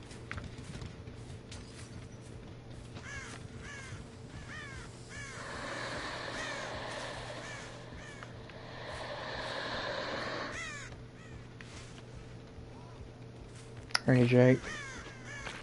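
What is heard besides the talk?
crows cawing and flying off in video game Dead by Daylight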